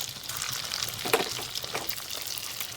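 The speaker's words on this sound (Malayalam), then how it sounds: "മീഡിയം ഫ്ലെയിമിൽ വെച്ച് നമുക്കിതിനെ ഫ്രൈ ചെയ്തെടുക്കാം." Small macaroni cake balls fry in hot oil over a medium flame, giving a soft, continuous sizzle with faint crackles and one brief clink near the middle.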